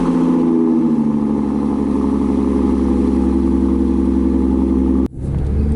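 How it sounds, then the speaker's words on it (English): A V6 Ford Mustang engine rumbles at a steady, loud idle just after a cold start, holding a deep even drone before cutting off abruptly near the end. "I'm gonna give y'all a little cold start"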